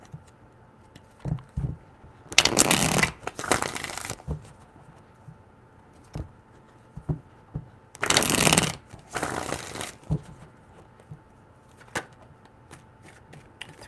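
Tarot cards shuffled in two long riffling bursts, close and fairly loud, with small card taps and handling clicks in the quiet between them.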